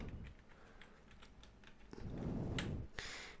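Quiet, close computer keyboard typing as C code is entered, a scatter of soft key clicks followed by a few firmer taps and a louder thump near the end.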